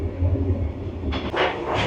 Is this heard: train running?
yes